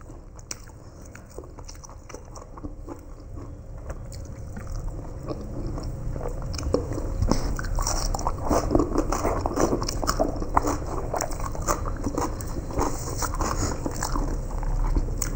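Close, steady chewing and biting on parotta flatbread during an eating challenge, continuous moist crunching and mastication filling the whole stretch with no talk.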